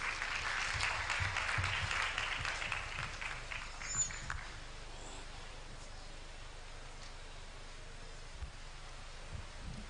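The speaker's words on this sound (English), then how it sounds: "A round of applause for him again." An audience at a medical induction ceremony claps for a registrar, with a burst of steady applause for about four seconds that fades into quiet room tone.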